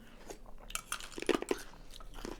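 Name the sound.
chewing ice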